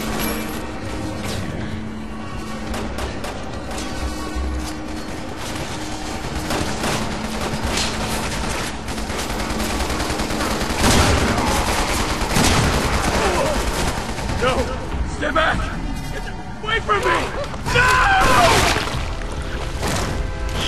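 Gunfire in Resident Evil 6 rattles on for about twenty seconds, dense bursts of shots and impacts over a busy game soundscape with a voice speaking at times.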